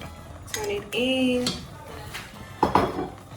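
A spoon scrapes and clatters against a pot of ogbono soup being stirred, with a few light knocks and then a sharper clatter near the end. A person talks alongside.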